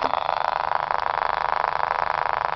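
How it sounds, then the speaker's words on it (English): The small rotor of a Stubblefield coil motor whirs steadily at high speed, a continuous buzzing hum with a fast, even pulsing flutter. "Hear the RPM revving up."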